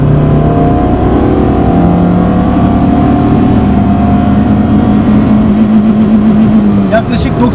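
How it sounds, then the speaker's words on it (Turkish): A Peugeot 106 Quiksilver pulls through second gear, its engine droning loud and close as the pitch climbs slowly and steadily toward the limiter, with someone talking over the engine noise. "Bir de ikinci viteste deneyelim."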